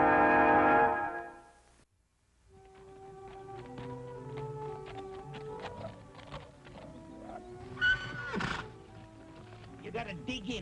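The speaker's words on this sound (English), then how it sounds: "a great wild horse and the only person on earth who can ride him" A wild horse neighs loudly at the start, a long whinny, then after a brief pause hoofbeats and music-like tones carry on beneath, with another sharp burst near the end.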